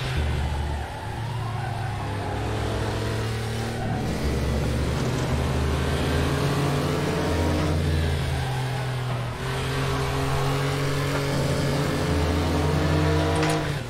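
A race car engine in a racing video game, an FR2 car at the Hungaroring, revs loudly and continuously, with rising pitch through each gear and brief dips at the shifts.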